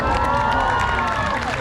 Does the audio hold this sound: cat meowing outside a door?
no